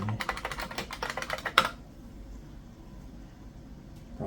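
Rapid typing on a United States layout keyboard of an eMachines eTower 266 desktop, a close, dense run of key clicks that ends with one sharper tap before the room falls quiet.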